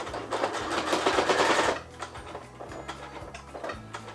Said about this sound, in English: I'm going to sew across to the other side, making sure that I stop once I reach the other row of stitches